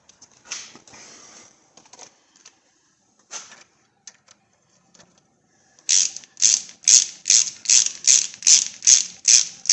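Ratchet tightening brake line bolts on a 2002 Chevy S-10 ZR2, a few scattered clicks at first, then a loud, close run of rhythmic ratcheting strokes repeating about twice per second.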